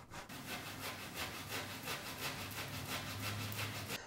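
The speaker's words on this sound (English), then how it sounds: "we're going to take this grater and we're going to grate our cooked potato right into the bowl" Cooked potato grated on a hand grater into a bowl for potato gnocchi, a steady run of quick rasping back-and-forth strokes, close and even throughout, with no voices.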